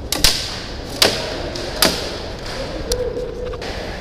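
Airsoft gun shots during a skirmish wargame in a parking lot, four sharp cracks spaced about a second apart over a background hiss, with faint speech.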